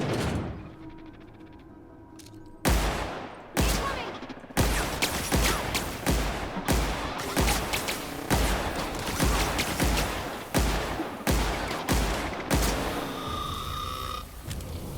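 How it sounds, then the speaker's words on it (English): Repeated gunshots ring out in The Outer Worlds, a shooter video game set in a mechanical facility. Loud bursts land in a steady rhythm of roughly one to two per second, with a quieter stretch before the shooting starts and a fading tail at the end. "Nice shooting."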